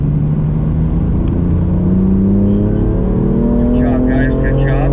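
A BMW M4 driven on a racetrack during a driving school session, engine loud and close, pitch rising and falling through gear changes, with an instructor's voice over the engine.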